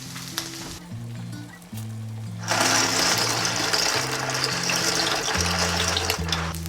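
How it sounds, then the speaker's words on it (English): A pan of spicy vodka pasta sauce sizzles loudly and steadily, the frying growing stronger partway through, while a low mechanical hum pulses underneath. "It's still sizzling."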